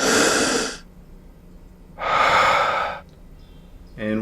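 Deep breaths taken before a wine tasting, heard as three separate airy bursts of breath, near and fairly loud, with quiet pauses between them.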